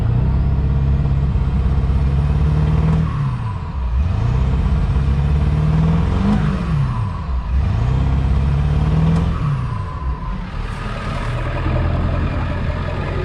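A heavy 7.3L Powerstroke diesel truck engine idles in park with a deep rumble, then revs up and falls back several times in steady swells, loud and close.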